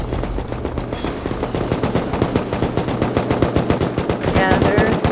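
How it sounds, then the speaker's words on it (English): Rapid automatic gunfire in the video game Rust, a dense run of loud, evenly spaced shots with distant echoing bursts, heard during a raid on a base gate. "they're firing at our gate"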